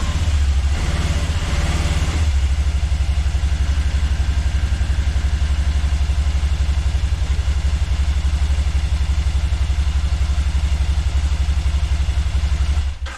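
A Can-Am Spyder RTS three-wheeled motorcycle's engine runs steadily as it drives up a lift ramp, a loud, continuous low drone with a brief rise in revs near the start, then cutting off at the very end.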